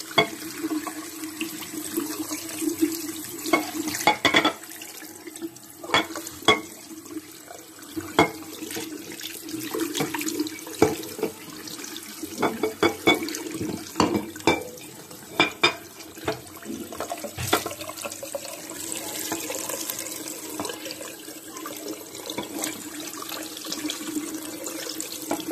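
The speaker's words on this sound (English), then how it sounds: "here I am just rinsing the unit out" Water from a tap splashes and gushes while rinsing out the plate heat exchanger of a Potterton Promax Combi 24 HE boiler, close and uneven, with repeated surges and sputters over a steady running flow.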